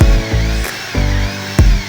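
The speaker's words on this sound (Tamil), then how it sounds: "நார்மலான ட்ரில்லர் ஒர்க் ஆகுது" A repaired electric power drill runs after reassembly in a workshop, its motor whirring in short close bursts that start and stop several times with no talk.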